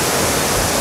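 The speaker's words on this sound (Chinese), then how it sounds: "我觉得这个位置看满月圆瀑布比较美丽" Manyueyuan waterfall in Manyueyuan National Forest Recreation Area, a brief, steady broadband rush of falling water with no talk.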